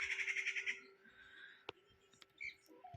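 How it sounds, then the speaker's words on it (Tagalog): Birds call outdoors: a quick pulsing trill at first, then scattered short chirps and squawks over a faint steady hum. "Ay marinig yung mga wak-wak-wak, mga ibon-ibon."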